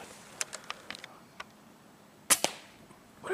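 A rifle fires outdoors during a daytime rabbit hunt: one sharp crack rings out, followed by a quick echo. Earlier there are faint scattered clicks and ticks, and the background is otherwise quiet.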